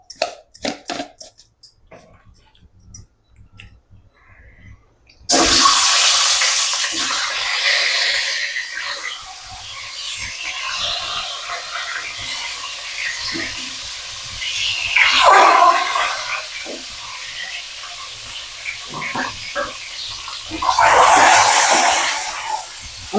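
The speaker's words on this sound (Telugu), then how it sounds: "గుడ్లు వేగలుతానమ్మా. పసుపు వేస్తున్నాను." Eggs frying in a pan with turmeric and salt give a steady, broad sizzle that starts suddenly after a few quiet clinks and swells at times as the pan is stirred, with no voices.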